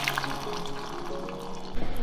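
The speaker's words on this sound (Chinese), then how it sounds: "加入适量开水" Boiling water pours into a clay pot of fried tofu, eggs and garlic, a close, soft splashing and gurgling stream that swells louder near the end.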